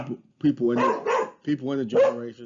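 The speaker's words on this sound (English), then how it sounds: "Sorry about my dog." A pet dog barks in a home while a person gives a talk on finance and generations, the yips and barks mixed under and between the continuing speech.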